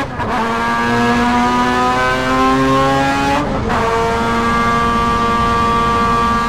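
A Mazda prototype race car with a rotary engine accelerates hard, its loud, buzzing engine note rising continuously from close on board, broken by one quick gear-shift dip before it climbs again.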